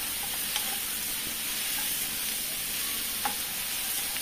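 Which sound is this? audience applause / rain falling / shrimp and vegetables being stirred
shrimp and vegetables being stirred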